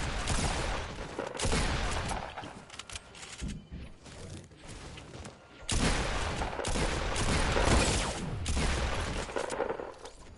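Bursts of automatic gunfire from a Fortnite match, loud and dense, rattling in long volleys separated by brief gaps across the whole stretch.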